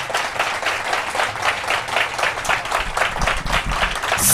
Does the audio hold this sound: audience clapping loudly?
yes